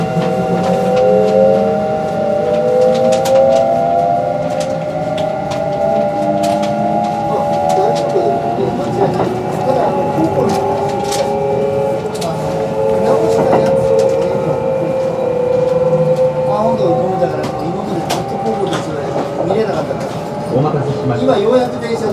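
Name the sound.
Kintetsu 22600 series train running, Mitsubishi IGBT-VVVF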